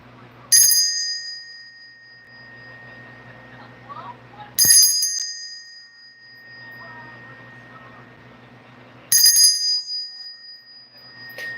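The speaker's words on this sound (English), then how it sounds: "I need to ring this bell." A bell rings three times at roughly four-second intervals, each strike bright and loud with a long, clear ringing tone that fades slowly into a quiet background.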